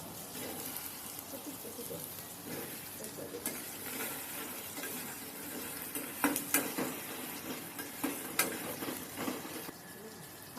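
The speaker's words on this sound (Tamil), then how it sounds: "தனியாக வானலை வச்சு அதில் போட்டு கொஞ்சம் வதக்கணும்" Okra sautéing in a separate pan, a constant faint sizzle with scattered utensil clicks and stirring scrapes growing busier toward the end.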